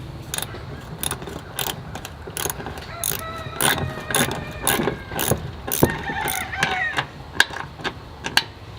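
A screw is driven through aluminum into a greenhouse frame with a hand ratchet or driver, making a rapid series of close clicking ratchet strokes with squeaky metal turning between them.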